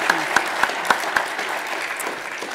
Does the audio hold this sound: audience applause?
yes